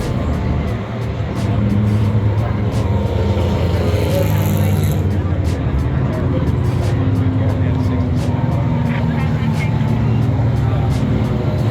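Race cars lapping MSR Houston during a 24 Hours of Lemons endurance race, a loud continuous engine roar with cars passing close by and a voice speaking over it.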